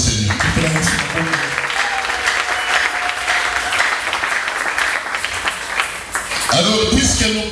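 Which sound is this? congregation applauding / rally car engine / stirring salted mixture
congregation applauding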